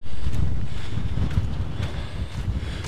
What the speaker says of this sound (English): It's certainly windy up here.